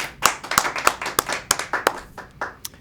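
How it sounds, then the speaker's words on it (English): A small audience claps at an industrial engineering awards ceremony, with a few distinct, unhurried claps that thin out toward the end. "Please join me in a round of applause for our newest OIEs."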